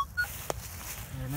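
Metal detector giving a short electronic tone over a buried target at an old home site, a faint brief beep with light background noise.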